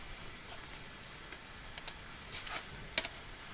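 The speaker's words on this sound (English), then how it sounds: "you just go to Google and you type in Hacs" A handful of light, sparse key clicks from typing a search on a computer keyboard, soft and irregular with short pauses, heard alone against a faint room hiss.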